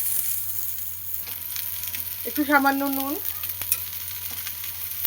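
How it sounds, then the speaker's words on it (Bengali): Cauliflower frying in oil with a little salt and turmeric for a Bengali rui fish curry, a soft steady sizzle under a woman's speech, with occasional stirring clinks. "ফুলকপিটা ভেজে নেব।"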